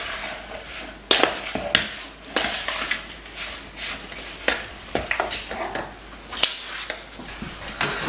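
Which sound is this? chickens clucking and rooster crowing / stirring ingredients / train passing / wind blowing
stirring ingredients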